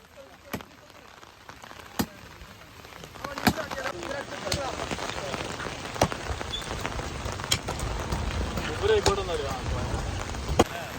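Rain patters steadily with scattered sharper drips and taps, while people talk quietly in the background.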